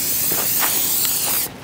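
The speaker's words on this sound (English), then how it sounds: "So I'm gonna use a spray paint here and draw a half meter circle" A spray paint can hisses steadily while marking a half-meter circle on the ground outdoors, a loud continuous spray with slight pulses, then cuts off abruptly near the end.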